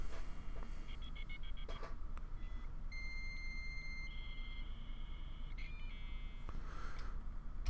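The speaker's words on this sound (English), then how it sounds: "Nine one 3347. Dial." Telephone dialing tones from the video game Digital: A Love Story sound as a sequence of short, clear beeps. Brief pitched tones come in small groups with gaps between them, over a low, steady background hum.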